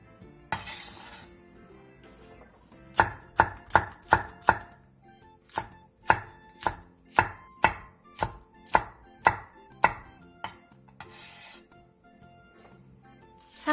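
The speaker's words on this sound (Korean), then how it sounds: "양파 2분의 1개를 채 썰어주세요." A knife chops onion, green onion and green and red chili peppers on a cutting board in a kitchen, with about sixteen crisp, evenly spaced strokes close up, preceded and followed by brief scraping.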